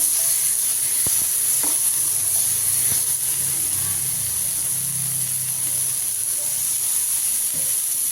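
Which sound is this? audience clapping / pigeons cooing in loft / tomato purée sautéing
tomato purée sautéing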